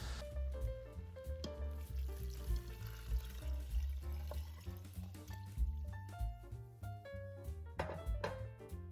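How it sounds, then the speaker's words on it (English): Water is poured into an Instant Pot holding red lentils, a faint continuous trickling and splashing that is quiet and close, with a few soft clinks and no talk. "along with this I'm going to add water"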